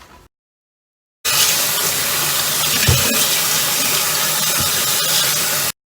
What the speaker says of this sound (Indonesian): kita cuci daging ini di bawah air yang mengalir ya, di bawah air keran sampai